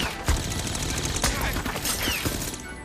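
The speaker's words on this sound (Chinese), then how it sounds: "此时 CRS 武装部队赶了过来，开始朝着房间疯狂射击。" Armed forces fire relentlessly into a room in a film scene, a loud, continuous fusillade of overlapping gunshots that fills the whole stretch.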